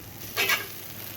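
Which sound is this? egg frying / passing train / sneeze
egg frying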